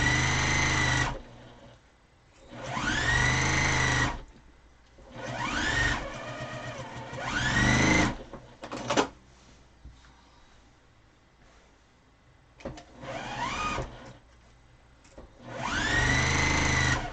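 A sewing machine stitching down the middle of a quilt block runs in several distinct whirring bursts of one to two seconds each, with short quiet pauses and small handling clicks between runs, close and clear with no talk.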